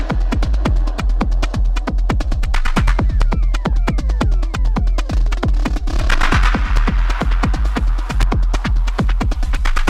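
A driving techno beat from a sample pack: a steady, loud four-on-the-floor kick with dense hi-hats and percussion, plus rising synth sweeps layered on top, continuous throughout.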